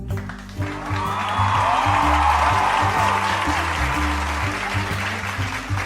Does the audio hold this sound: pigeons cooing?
no